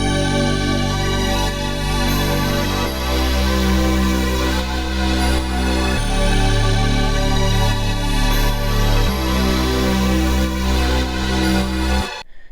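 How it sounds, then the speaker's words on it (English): Korg Triton Extreme sub bass preset playing a simple pattern of long, deep held notes that shift pitch every few seconds, loud and full beneath a wide, airy atmospheric synth melody, with no voices. "Under the bass section I found this really cool sub bass preset"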